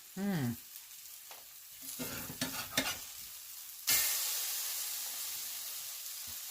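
Spaghetti squash fritters frying in a pan give a broad, steady sizzle that jumps louder partway through and holds, after a few quieter scrapes and clatters at the start.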